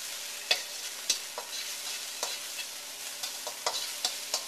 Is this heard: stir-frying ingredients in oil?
yes